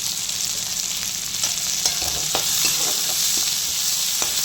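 Onion and tomato fry in oil in a pan, a steady close sizzle with small crackles and occasional stirring scrapes throughout, no voices.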